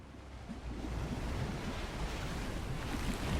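Surf and rolling waves wash steadily in a Fortnite battle event, a continuous broad, fairly loud rush of game water with a wind-like hiss and no talking.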